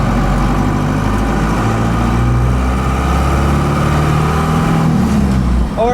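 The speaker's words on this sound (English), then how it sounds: "You probably hear that moaning noise. It's my Saginaw power steering pump having to work with this quick ratio gearbox." A Saginaw power steering pump moans steadily under the idle of a 4BT Cummins diesel in a Ford F150 fitted with a quick ratio steering gearbox, a continuous low droning engine hum with a faint whine riding on top.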